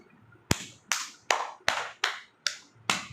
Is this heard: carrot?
no